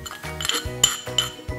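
Close clinks and scrapes of utensils against a bowl while a crispy fish salad with crunchy rice, diced lime, shallot, young ginger and lemongrass is tossed together, in quick repeated strokes.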